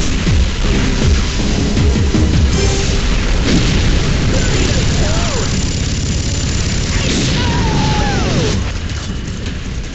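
Vehicle blowing up in Unreal Tournament 2004, a heavy boom opening onto a continuous loud wash of blasts, bursts and engine roar through a chaotic battle, with a voice calling out partway through.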